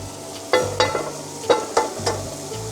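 Olive oil sizzling in a frying pan before an egg goes in, a steady close hiss broken by several sharp crackling bursts and clatters, with no talking.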